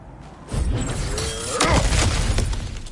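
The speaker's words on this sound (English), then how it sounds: "Ah, back to smashing through things for fun and profit." Objects smash and shatter in God of War Ragnarök: a sharp breaking crash followed by scattering, rattling debris, loud and close, with no talking.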